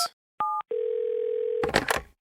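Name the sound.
telephone dial tone and dialing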